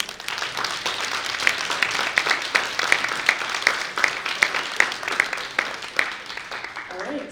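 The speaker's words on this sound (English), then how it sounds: "So let's give them a round of applause" Applause from the audience at a Buffalo State University Greek Life awards ceremony, honoring the advisors; steady dense clapping with sharper individual claps popping through, sustained for several seconds before tapering off.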